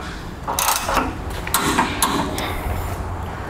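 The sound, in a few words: wrench tightening and torquing base plate bolts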